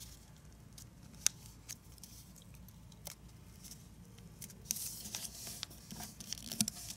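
A paper dollar bill is creased and folded into an origami shirt, making soft, faint crinkles and small papery taps, close by and quiet, growing a little busier toward the end, with no talk.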